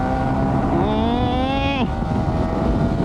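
A crisp motorcycle engine revved once, its note climbing over about a second and then cutting off sharply, close and loud over steady wind and road noise.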